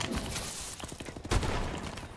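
An EM1 directed-energy gun fires in the video game Call of Duty: Advanced Warfare, producing a dense, sustained burst of rapid-fire shots that runs for the whole stretch with a loud thump partway through.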